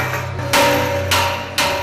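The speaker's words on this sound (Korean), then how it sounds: "망치로 두드려 벌어진 틈을 최대한 좁힌다." Hammer striking the steel plates of a safe during assembly, three loud sharp metallic blows spaced about half a second apart, each ringing briefly over a low hum.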